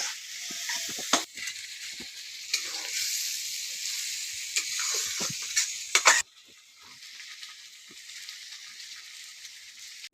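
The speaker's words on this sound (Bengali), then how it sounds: "যখন পেঁয়াজ ঘাটছে এই যে দেখুন" Onions stirred while frying in oil for a home-style chicken dish, with a continuous sizzle and repeated scraping and knocking of a spoon against the pan, close up, quieting abruptly partway through.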